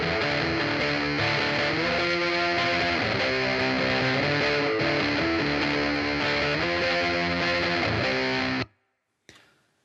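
Distorted electric guitar from a punk and classic rock production, lightened by an analog channel preset, plays continuous chugging chords close and loud for about nine seconds, then cuts off abruptly into silence.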